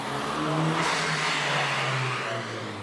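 Engine of an iconic 1990s Toyota car running close by, a loud steady drone with a low harmonic hum that swells slightly then eases off near the end, with no talking over it.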